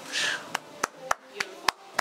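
Claps ring out at a dog obedience competition: after a brief breathy noise, six sharp, evenly spaced hand claps sound close and clear.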